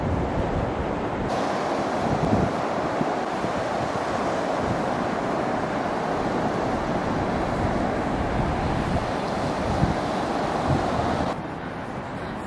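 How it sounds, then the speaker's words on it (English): North Sea surf rolls onto East Runton Beach below the cliffs, with a continuous roar of breaking waves and strong wind buffeting the microphone throughout. "This is East Runton Beach and Cliffs. And this is the North Sea."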